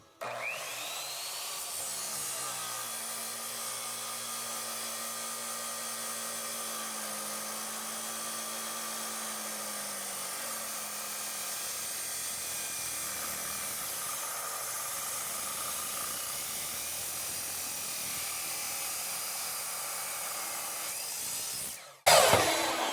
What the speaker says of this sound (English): So I'm busting out the chop saw.